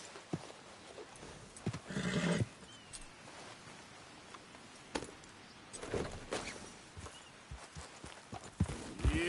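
A horse walking along, its hooves clip-clopping in uneven steps, fairly faint and close, with a few scattered thumps and no clear speech.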